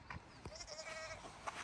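Faint sheep bleat on a Dartmoor lambing farm, with one wavering bleat in the middle against a low background hiss.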